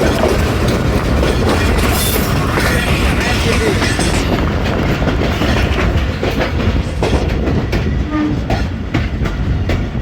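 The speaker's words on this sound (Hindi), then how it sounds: "गोल्डा शरीफ जंक्शन पहुंच रही है ट्रेन" A passenger train, the Jaffar Express, pulling into Golra Sharif junction on a foggy winter day, its loud steady rumble and clickety-clack of wheels on rails filling the whole span, close and unbroken.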